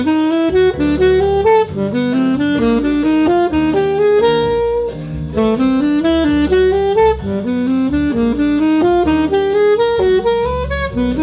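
Jazz improvisation running a 1-3-4-5 digital pattern over chord changes, a fast stream of melodic notes over a walking backing, played continuously and clearly up front without any talking.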